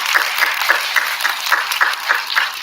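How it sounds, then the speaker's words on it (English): Steady applause from a school assembly audience, many hands clapping in a dense, continuous wash at moderate loudness with no talk over it. "So one more round of applause,"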